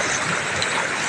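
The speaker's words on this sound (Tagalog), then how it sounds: "Ang ingay ng tubig na yan." Broad, steady rushing of water at Wawa Dam in Montalban, Rizal, loud and continuous with no voices, like a strong flow pouring nearby.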